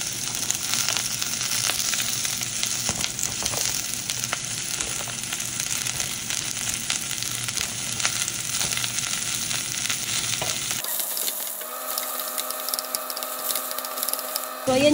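Lots of onions dropped into a hot pan for lechon paksiw, frying with a loud, dense, continuous sizzle and occasional stirring scrapes; near the end the crackle thins to a quieter hiss.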